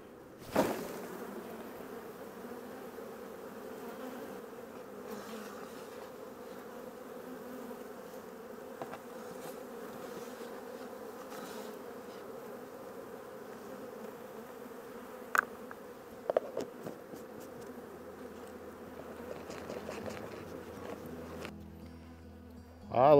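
An opened honey bee hive produces a steady, soft buzz of many bees that holds throughout, with a few faint clicks and knocks near the end and no voices.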